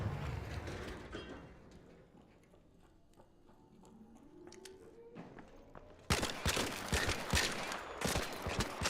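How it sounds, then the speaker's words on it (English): Gunfire in the shooter game Arc Raiders: a quiet stretch of faint mechanical whirs and tones, then a sudden burst of loud, rapid shots and sharp cracks that fills the final few seconds. "Hey, where'd that shooting come from?"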